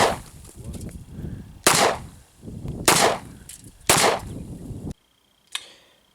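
A Sig Sauer 220 Elite 10mm pistol fires three sharp, loud shots about a second apart, each followed by a short ring, then a brief silence and one fainter clack.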